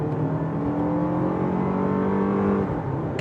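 Lexus LM500h Direct4 pulling hard under full-throttle acceleration, a steady close engine and motor drone whose pitch climbs smoothly, with a brief shift-like dip near the end and no talking.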